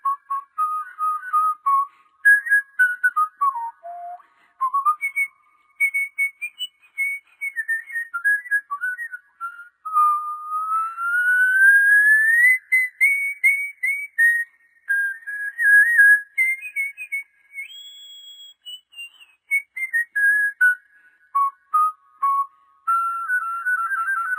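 A person whistles a wandering melody, clear and close, with sliding notes and short pauses between phrases.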